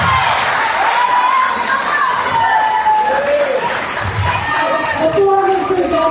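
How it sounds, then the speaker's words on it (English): Audience at a mayoral candidates education forum breaks into applause and cheering, a dense crowd roar that holds steady for several seconds, fairly loud and close, with scattered voices mixed in. "please hold your applause so that we can hear the candidates"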